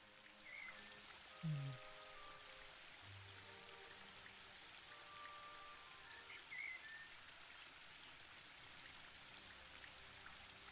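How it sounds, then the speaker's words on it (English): Gentle waterfall ambience in the video game The Book of Unwritten Tales 2, a faint steady wash of falling water with a few soft chimes and tones drifting over it. "The waterfall and I have been neighbours for so long that I don't really hear it anymore."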